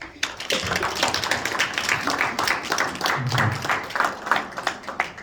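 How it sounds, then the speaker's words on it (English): University students in an audience give a round of applause after a poem, steady dense clapping at moderate distance with scattered sharper claps. "Y'all give a nice round of applause."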